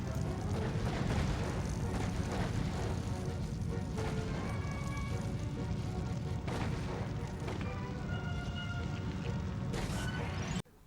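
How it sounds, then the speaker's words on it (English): Objects being smashed in the LEGO Indiana Jones video game, a dense, loud, rumbling crash and boom effect with repeated impacts layered together, sustained for about ten seconds before cutting off abruptly. "I love how the sound effects for destroying different materials and structures are all the same, it's just some loud explosion."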